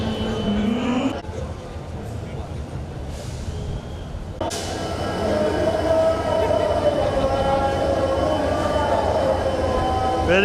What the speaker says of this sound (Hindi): कौशल जी, रेल कहाँ से कहाँ जाएगी?